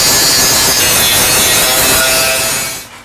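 A grinder scours bare metal on subframe connectors under a Ford Fox Body Fairmont, cleaning the spots to be welded: a loud, close, continuous abrasive hiss and rasp that holds steady for about three seconds before cutting off, with no talking.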